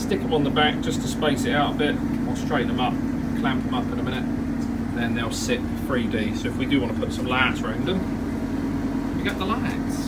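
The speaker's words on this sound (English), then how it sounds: "excuse the noise of the old tumble dryer" An old tumble dryer runs steadily in the background with a constant low hum while someone talks over it nearby.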